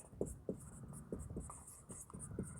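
Writing strokes during a Class 9 math lesson, a series of short, evenly spaced scratches close up, about eight marks in under three seconds, with no voice.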